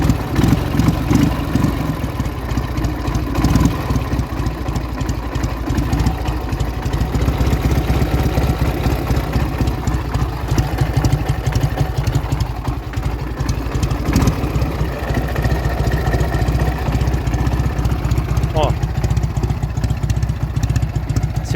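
An old Soviet Ural IMZ motorcycle engine idles after a cold start, a loud, steady low chugging with a rapid pulsing beat and mechanical clatter, running continuously close by.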